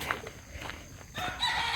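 Chickens cluck and crow intermittently nearby, with scattered short calls and a louder burst of squawking toward the end.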